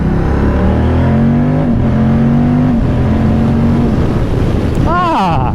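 A Moto Guzzi Stelvio motorcycle accelerates hard, its engine note climbing through a couple of gears with a loud, close rising drone and wind rush, and a rider's voice briefly heard near the end.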